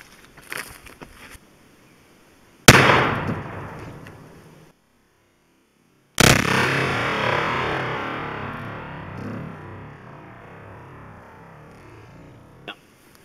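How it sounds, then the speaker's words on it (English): A Model 340 .223 rifle with a 22-inch barrel is fired into ballistic gel at an outdoor test, giving two loud, sharp reports a few seconds apart, each followed by a decaying rumble. "Next shot will be with the Model 340."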